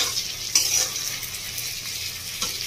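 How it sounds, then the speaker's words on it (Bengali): Pointed gourd (potol) fries in a pan for a Bengali doi potol dish, with a steady close sizzle of hot oil and a couple of sharp spoon-against-pan scrapes as it is stirred. "পটলের গাটা দেখে বোঝা যাচ্ছে পটলটা প্রায় ভাজা ভাজা হয়ে যাচ্ছে"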